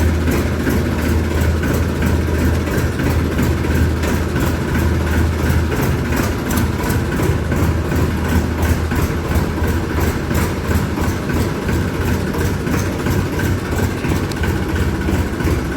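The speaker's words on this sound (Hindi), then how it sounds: "अभी आवाज़ गोल ली हुई है इसकी, अभी भी ठंडा है इंजन" A cold tractor engine idles with a steady, heavy low rumble and fast rhythmic knocking, loud and close throughout without pause.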